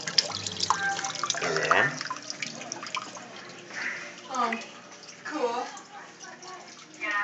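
A homemade waterfall trickles and splashes inside a red tail boa's tank, a continuous light run of water with bubbling drips, while a person speaks briefly over it.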